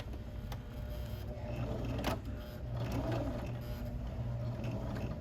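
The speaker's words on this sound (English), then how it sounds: "I'm going to back stitch right here." A sewing machine back stitches a garment sample, producing a soft continuous mechanical whir with small clicks and shifts in pace, close and moderately quiet.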